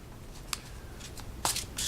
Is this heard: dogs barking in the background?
no